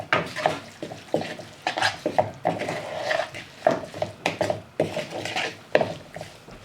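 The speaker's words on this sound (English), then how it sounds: "Then I'm just going to mix this in here." Potato salad ingredients, including chopped onion, mixed in a bowl with a utensil: repeated scraping and clinking strokes in an uneven rhythm, close and moderately loud, with no voices.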